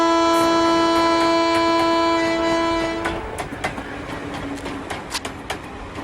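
A train sounds a long, loud horn for about three seconds. It then runs on with rhythmic clickety-clack rattling of the wheels and cars over the rails.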